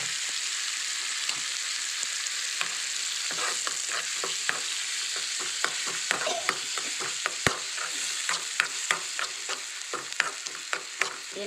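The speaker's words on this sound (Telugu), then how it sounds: "దీన్ని ఇప్పుడు మనం మిక్సీకి వేసుకున్న మామిడి పచ్చిమిరపకాయ తొక్కు వేసేసుకుందాం." Ground raw mango and green chili chutney hitting a hot tempering in a pan, a continuous sizzle broken by sharp crackles and stirring scrapes that grow busier toward the end; no talk.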